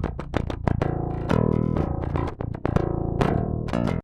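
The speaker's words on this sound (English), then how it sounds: "This is kind of a very common DI sound" Unprocessed direct-input bass guitar track for rock or metal, a run of fast plucked notes with sharp attacks and bright string clank, dry and close with no voices.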